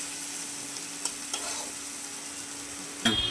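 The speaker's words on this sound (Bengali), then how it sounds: "পেঁয়াজটা একটু লাল লাল করে ভাজা হবে" Onions fry in oil in a pan, making a steady, close sizzle with a few soft stirring scrapes, then a sharper clatter of the spatula at the end, with no voices.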